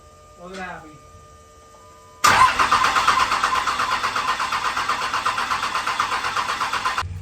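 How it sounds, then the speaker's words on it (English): A truck engine with bigger injectors cranks and catches suddenly, then keeps running at a loud, steady idle with an even pulsing rhythm. A brief voice is heard just before it starts. "Found out why the truck's firing up and then turning right off."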